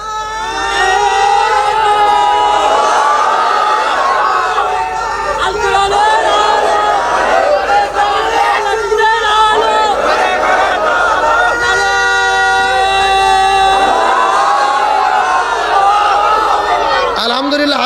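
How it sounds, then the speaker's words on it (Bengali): A large crowd at an Islamic religious gathering (waz mahfil) roars a takbir slogan in unison, loud, sustained massed voices continuing for many seconds with rising and falling swells. "ভেতর থেকে একজন স্লোগান দেন।"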